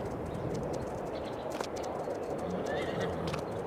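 Horses in the farming game Farming Simulator 22 give faint neighs and whinnies amid soft clip-clopping hooves and light birdsong, a quiet and steady ambient scene with no one talking.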